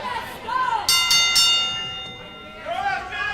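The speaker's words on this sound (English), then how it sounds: "As the bell sounds," Ringside bell at a CCW Destiny Awaits pro wrestling event in Port St. Lucie, Florida, rung in a few quick loud strikes with a long ringing decay, under an announcer's commentary and crowd noise.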